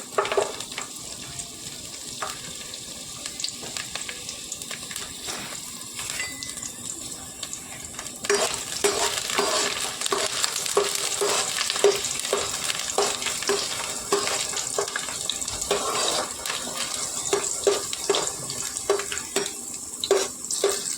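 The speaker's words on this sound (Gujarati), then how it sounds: "વઘાર નાખવા માટે આપણે ખાલી લસણ જ નાખવાનું છે।" Chopped garlic tempering in hot oil for a Kathiawadi dill leaf bhaji crackles in a dense, lively sizzle that grows louder midway, with repeated stirring scrapes and taps throughout.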